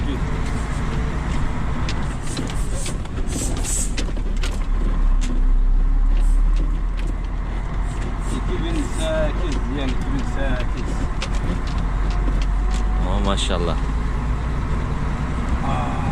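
A 2008 Mercedes Axor 3240 eight-wheel dump truck drives along with a steady low engine rumble and road noise throughout, while people talk inside the cab.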